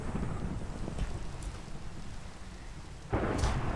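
Steady rain pours down in a Minecraft swamp in the Sevtech modpack, a constant close hiss, with a sudden louder rumble of thunder breaking in near the end.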